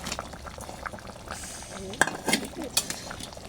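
Fish and potato curry bubbles in a pot, a soft simmering burble with light stirring and a few small clinks of utensil against metal, fairly quiet and close.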